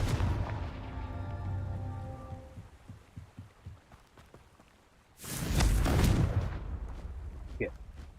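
A Confringo fire spell goes off in Hogwarts Legacy, a sudden loud roaring blast that swells up out of quieter game sounds and then fades into a rumbling tail.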